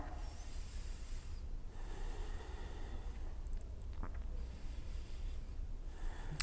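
Slow deep breathing during a lower-back yoga pose, long airy inhales and exhales rising and falling in a soft hiss, quiet and close, with no talking.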